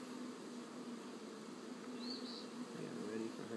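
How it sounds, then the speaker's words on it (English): Honey bees buzz in a dense, steady drone around an opened hive with frames pulled for inspection, a close continuous hum with people talking quietly nearby. "We're going cross-eyed so many bees to look at."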